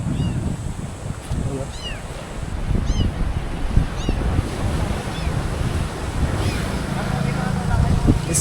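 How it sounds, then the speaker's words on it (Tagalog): Heavy ocean waves crash and churn in a continuous roar at Boracay during a fishing festival, mixed with strong wind buffeting the microphone. "Medyo malakas yung alon ngayon mga master."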